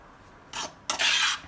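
Two quick rasping swishes of a vegetarian salad being tossed and stirred in a bowl, a short one followed by a longer one.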